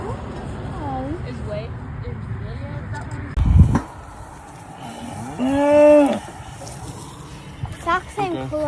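A cow on a farm gives a clear, drawn-out moo partway through, with a thud just before it and people talking quietly around it.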